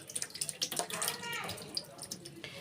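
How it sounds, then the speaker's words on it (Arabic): Water splashing and running as it is poured out of a bowl of grapes being washed, a continuous gush with scattered splashes, close by. "انا هفضي المية دي واحط مية تانية عشان العنب ده اول مرة يطلع من الشنطة ويتغسل"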